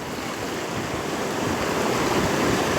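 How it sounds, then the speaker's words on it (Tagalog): Strong river current rushing in a steady, broadband wash of water, loud and continuous with no breaks and no voices. "Lakas ng agos."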